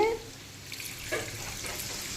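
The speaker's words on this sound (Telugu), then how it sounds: "కొంచెం వాటర్ పోయాలండి, ఎందుకంటే కొంచెం కుక్ అవ్వాలి." About a glass of water is poured into a pot of curry, a brief close splash and gurgle that fades into a quieter trickle.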